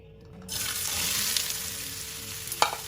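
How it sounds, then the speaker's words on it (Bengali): Cubed potatoes drop into hot oil and set off a steady, fairly loud sizzle that rises at once and holds, with a brief sharper crackle near the end. "তেলটা গরম হয়ে গেলে সেখানে কিউব করা আলু দিয়ে দেবো"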